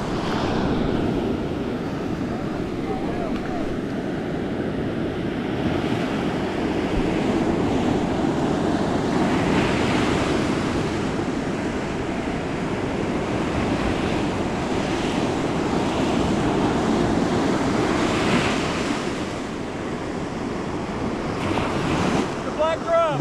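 Ocean surf rolling onto a beach while fishing for black drum, a steady roar of breaking waves with wind buffeting the microphone, loud and continuous throughout.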